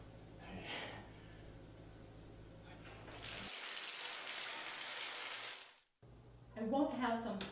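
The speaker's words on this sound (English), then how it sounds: "I'm gonna go grab a shower, guys." Shower water runs with a steady, bright hiss for about three seconds, cut off abruptly, with low hum and a voice before and after.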